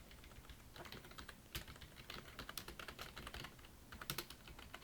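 Typing on a computer keyboard while entering text into a document: rapid, irregular clicking keystrokes, close and fairly quiet, with no talking.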